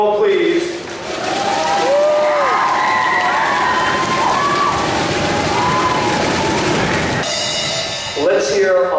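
A loud, close crowd at the 2014 MMS Poetry Awards in Maplewood, NJ cheers, whoops and applauds. Sustained clapping runs under shouting and excited voices, dips briefly near the end and then surges again.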